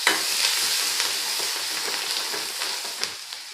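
Chili powder, curry leaves and coriander frying in hot oil for a pumpkin and chana dal dish, a steady close sizzle with bursts of crackling and stirring scrapes, no voices.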